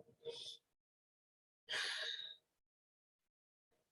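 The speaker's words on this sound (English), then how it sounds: "take that deep breath" A person takes a slow, deep breath, an audible airy inhale followed after a pause by a longer, stronger exhale, close to the microphone in an otherwise quiet room.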